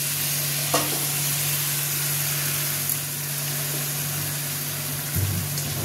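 Chicken gravy simmers and sizzles steadily in a pan, with a few soft scrapes of stirring as it spreads around the meat, a continuous close hiss throughout with a low hum beneath.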